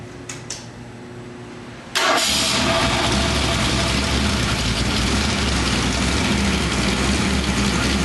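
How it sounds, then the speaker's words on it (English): A 420-horsepower 351 Windsor V8 engine cranks and fires up, then settles into a loud, steady, rumbling run close by. "we're going to be running a 351 Windsor here with 420 horsepower demonstration"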